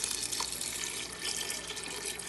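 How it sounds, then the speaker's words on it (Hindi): Water pours steadily into a pressure cooker holding chickpeas, a continuous close hissing splash with no talking. "इसमें अब हम पानी डालेंगे।"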